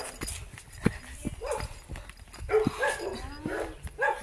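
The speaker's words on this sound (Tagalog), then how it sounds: "May aso" A dog on a hillside property with Bermuda grass barks and yips in short bursts amid outdoor bustle, with people talking over it.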